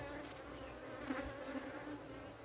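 Africanized honey bees droning steadily inside an open hive colony in Trinidad, a close, continuous buzz with no voices.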